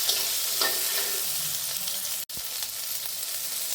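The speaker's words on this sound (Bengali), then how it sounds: "বেগুনটা একটু ভেজে নিচ্ছি।" Eggplant pieces and chickpeas fry in a pan, giving a steady, close hiss and crackle of sizzling with faint scraping from stirring, briefly cut by a short dropout partway through.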